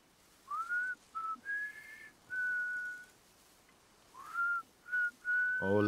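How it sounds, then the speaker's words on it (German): A character whistles a short tune in the video game Death Stranding, with clear, close, separate notes and brief pauses between phrases, alone over a faint background. "Ich dachte, du fängst an zu pfeifen,"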